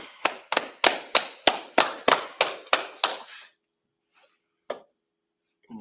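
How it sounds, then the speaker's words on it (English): A group claps in unison at a Brotherhood class, about a dozen sharp, evenly spaced claps over three seconds, then silence broken by a couple of faint scattered claps near the end. "All right, clap it up."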